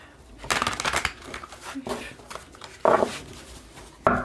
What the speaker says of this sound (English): I'm going to try several different shuffling techniques